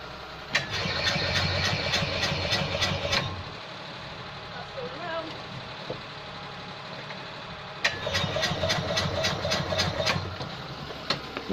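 An Invacar left abandoned in a field for fourteen years, its engine cranking in two long rapid churning bursts with a quieter pause between, heard close up without catching.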